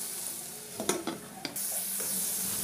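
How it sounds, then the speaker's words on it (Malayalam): Onion, ginger-garlic paste and green chilli sautéing in oil, with several sharp spatula clacks and scrapes against the pan, then a steady, fairly close sizzle. "ഓയിൽ ഒഴിച്ചിട്ട് സവാളയും ഇഞ്ചി വെളുത്തുള്ളി പേസ്റ്റും പച്ചമുളക് കൂടി ചേർത്തിട്ട് നന്നായിട്ടൊന്ന് വഴറ്റിയെടുക്കാം."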